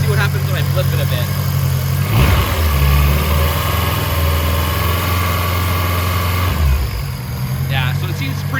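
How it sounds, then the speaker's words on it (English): An AWD Acura RSX engine idles steadily while warming up, a loud, constant low rumble with a brief surge around two seconds and a dip near seven, under faint background talk. "I'm gonna continue to let it warm up. Hopefully the idle comes down to where it should be."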